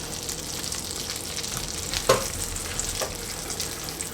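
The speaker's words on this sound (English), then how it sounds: "Kind of mix this up a little bit and get that melting process of that sugar going" Butter and brown sugar melting together in a pan, a continuous hiss of sizzling under light stirring with one or two brief utensil knocks, moderate and close, with no voices.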